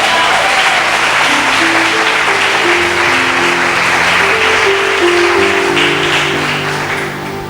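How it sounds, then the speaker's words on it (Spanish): Loud, dense congregation applause fills a church during a worship service, steady throughout with sustained tones underneath, fading slightly at the end. "Dale un aplauso al Señor."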